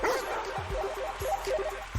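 Dogs bark and yip in quick, repeated bursts, close by, over a steady noisy background.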